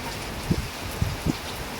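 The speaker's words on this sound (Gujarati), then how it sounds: "કેટલો વરસાદ છે વીજળી પણ ચમકી રહી છે" Rain falls in a continuous hiss during a lightning storm in a rural Gujarat village, with a few heavier drops thudding dully on a surface.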